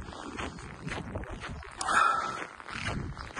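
A dog in a snowy Siberian village barks briefly at a moderate distance, a short sharp yelp standing out midway over muffled footsteps and outdoor ambience.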